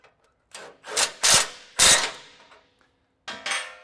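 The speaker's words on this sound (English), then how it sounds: "we're going to go back to our cross member bolt, push this upwards, and we're just going to snug it up for now." Several short bursts of a hand ratchet snugging a cross member bolt on a third-generation Toyota Tundra during skid plate installation, close metallic clicking runs with gaps between, no talking.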